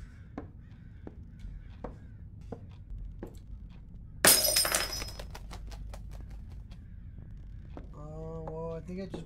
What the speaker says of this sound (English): think I just broke some glass